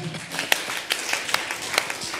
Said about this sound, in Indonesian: Tepuk tangan dulu, haleluya.